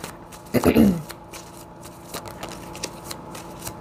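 A deck of tarot cards gets one quick riffle shuffle, a short crisp burst that dies away into a quiet room with a soft voice in the background.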